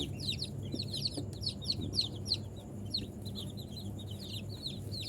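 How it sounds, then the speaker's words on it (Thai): Many domestic chicks in a brooder pen cheep constantly, their shrill overlapping peeps forming a busy, nearby chorus over a low background hum, with no talking. "อันนี้ลูกไก่บ้านก็รอส่งลูกค้านะครับ"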